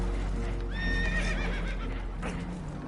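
Spooked horses in Red Dead Redemption neigh and whinny in a short, shrill burst over low rumbling and faint hoof clatter.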